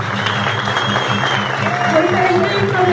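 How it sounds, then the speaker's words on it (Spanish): Congregation in a church clapping loudly for the Lord, a dense continuous roar of hands with sustained music or voices running underneath throughout. "yo le convido que usted le dé un fuerte aplauso al Señor"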